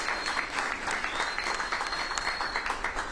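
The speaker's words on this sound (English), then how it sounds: "You can clap for that." An audience applauds steadily, a dense wash of clapping hands with no voices standing out.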